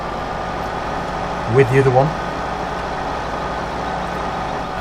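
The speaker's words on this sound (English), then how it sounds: "And we'll park the tractor" A tractor engine in Farming Simulator 2015 idles with a steady low drone throughout, while someone talks briefly over it.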